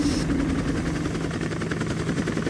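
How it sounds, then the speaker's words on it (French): A nearby helicopter runs its engine and rotor before taking off on a trip to sea ice, a loud, steady low thrum with a pulsing beat that lasts the whole stretch, with no voices. "l'hélicoptère nous emmène enfin à destination."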